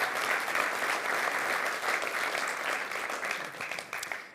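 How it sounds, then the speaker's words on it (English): Crowd at a crypto meetup in Amsterdam giving a round of applause, a steady wash of many hands clapping at moderate volume that thins slightly toward the end. "give yourselves a round of applause."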